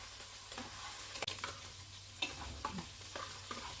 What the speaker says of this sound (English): it's frying perfectly well,